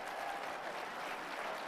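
Applause from a live audience during a speech by Mike Johnson, a steady dense clatter of clapping for under two seconds that cuts off abruptly at the end.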